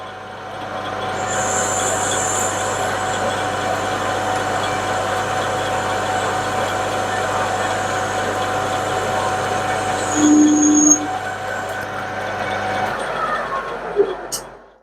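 A metal lathe takes a boring cut on a steam locomotive's front cylinder cover, giving a steady, loud machining drone with a brief high squeal near the end and no talking.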